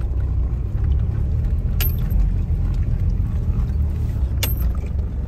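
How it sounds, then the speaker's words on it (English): A steady, loud low rumble of a car engine that is making an unusual noise, plus road noise on a rural riverside road, fills the clip, with a couple of brief sharp clicks and no talking. "your car's still making noise"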